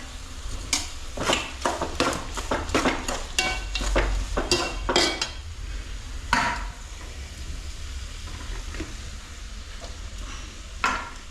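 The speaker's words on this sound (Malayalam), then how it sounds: "ഇഞ്ചി, വെളുത്തുള്ളി, ഇഞ്ചി, പച്ചമുളക് ഇതെല്ലാം കൂടെ ഇടാം." Ginger, garlic and green chilies sautéing in a pan, with a run of rapid utensil knocks and scrapes over a low sizzle, close and fairly loud, fading to a few isolated taps.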